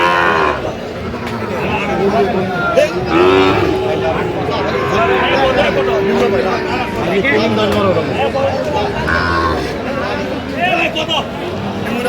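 Several Sahiwal cattle moo repeatedly at a cattle market in Feni, loud and close, over a continuous murmur of crowd chatter and voices.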